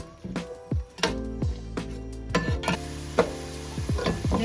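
Two medium chopped onions and whole garlic cloves hit hot oil in a pan, sizzling steadily while a spoon stirs and scrapes in repeated sharp knocks, close and fairly loud.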